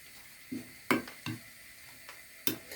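A spoon stirs cornstarch into water, giving several distinct clinks and taps against the container at uneven intervals, close and fairly quiet.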